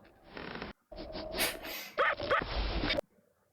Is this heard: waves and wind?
no